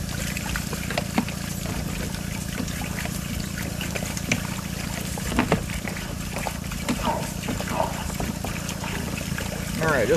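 Water trickles down a drain line through PVC pipe. A soft, steady running sound is broken by small gurgles and splashes, with a low hum beneath it.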